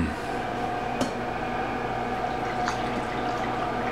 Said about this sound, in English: I'm going to get a little bit of water